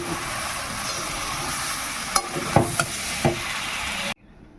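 Chicken kala bhuna fries in a pan, a dense steady sizzle broken by several louder scraping stirs near the end before the sound cuts off abruptly.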